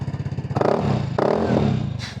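Vespa Primavera scooter fitted with a power pipe exhaust, revving hard in two loud surges over a steady, close, throbbing idle, with a brief higher rasp near the end.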